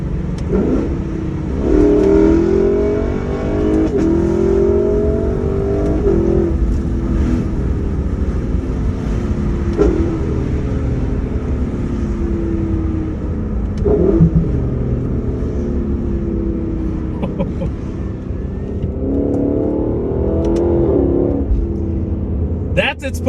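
A Lexus LC500 with its V8 engine in manual mode revs repeatedly, the deep engine note rising and falling in several loud pulls with sharp blips between them, close by, while someone talks over it.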